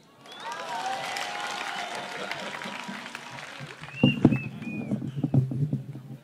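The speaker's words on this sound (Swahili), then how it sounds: "Makofi ya Mheshimiwa Mbai tena" An audience applauds the Honourable Nimrod Mbai at a public political gathering: a dense, sustained clapping swell that later thins into scattered claps, shouts and whistles, with voices mixed in.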